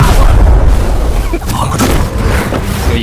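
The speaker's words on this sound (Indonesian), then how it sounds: "Lalu dia membuat ledakan yang mengejutkan semua orang." A loud, booming explosion in an animated fantasy series fills the soundtrack with a dense, sustained rumble that stays forceful throughout without a clear break.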